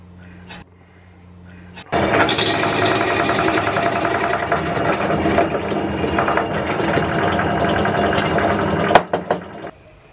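A drill press bores a hole through a metal arc, giving a steady loud grinding whir that starts after a short quiet moment and runs for several seconds before a clunk and spin-down at the end.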